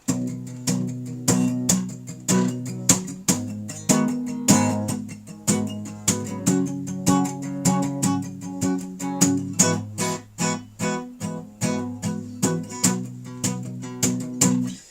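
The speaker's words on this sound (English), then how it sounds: "So try palm muted chords first" Rhythmic palm-muted chord strumming on an acoustic guitar, steady percussive chugs with short ringing chords, played alone without any voice.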